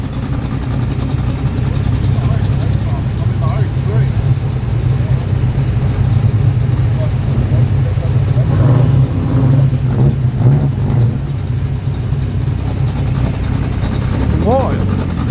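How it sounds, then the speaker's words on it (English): A lime green Holden SS drives past on a Sydney street, its engine a low rumble with a rising rev toward the end, under steady traffic noise and people talking nearby. "And the lime green Holden SS."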